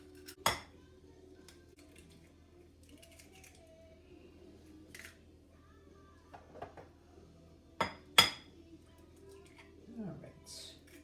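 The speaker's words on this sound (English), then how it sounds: "I'm going to use 3 eggs. All right, I'm going to crack them" Three eggs being cracked for French toast in a home kitchen, a few sharp isolated taps and cracks against a hard edge, spaced apart over quiet background hum, with faint handling noises near the end.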